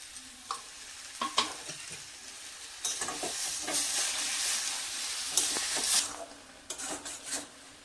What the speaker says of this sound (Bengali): দুধ খানিকটা এর উপর থেকে আমি দিয়ে দিচ্ছি।